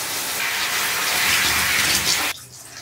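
Tap water runs steadily as shampooed hair is rinsed, a loud continuous gush close by that cuts off abruptly near the end, with no one speaking.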